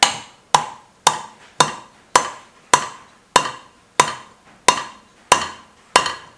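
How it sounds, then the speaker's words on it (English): Metal hammer taps drive a 6mm bolt into a motorcycle part on a 650 scrambler build, about a dozen sharp, evenly spaced ringing strikes, close and loud with short decays and no talking. "screw in a 6mm bolt there, and then we can tap that in."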